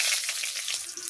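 Bay leaves sizzling in hot oil in a wok during village cooking, a steady bright hiss that stays loud and even for the whole moment with no voices.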